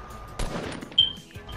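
Gunfire in Fortnite: quick sharp shots crack in succession over a short burst, close and punchy, with brief pauses between blasts.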